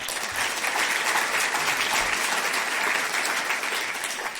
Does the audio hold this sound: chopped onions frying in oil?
no